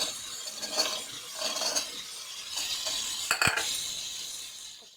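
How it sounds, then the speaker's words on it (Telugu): Chickpeas, potatoes and vegetables frying in a pan are stirred with a spoon, giving soft scraping sweeps and a couple of sharp metallic clinks against the pan over a faint sizzle, close and without talk. "ఈ విధంగా కలుపుకుంటూ వెజిటేబుల్స్ అన్నీ ఒక 5 నిమిషాలు సిమ్లో వేయించుకోవాలండి"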